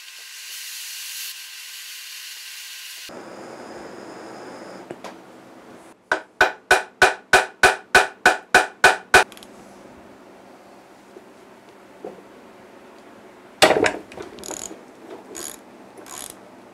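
A tool works a stuck bolt loose on an F-body T56 transmission during disassembly, with a rapid burst of about ten sharp, evenly spaced mechanical clacks, then a quieter stretch and a final loud cluster of knocks.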